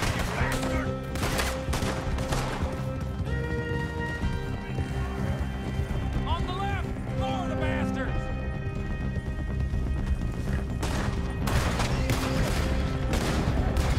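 Gunfire in Red Dead Redemption 2 cracks in scattered shots near the start and again toward the end, set against sustained in-game music and galloping horse hooves.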